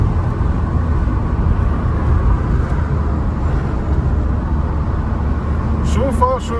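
Cabin sound of a Suzuki Swift hatchback on the move, a steady low road and engine rumble with a faint brief warbling tone near the end.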